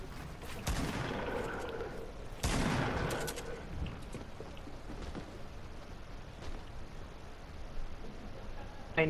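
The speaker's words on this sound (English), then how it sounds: "He's shooting you down, he's shooting you down!" Gunfire erupts in a Fortnite match: loud broadband bursts near the start and again around the two-second mark, then a steadier rattle of shots and ambient game noise through the rest.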